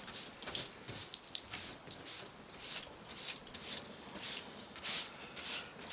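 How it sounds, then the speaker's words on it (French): Water splashing and trickling steadily over a car hood as it is rinsed to wash away sand, a continuous close-up pour with small surges and patters and no voices. "toujours en mettant de l'eau"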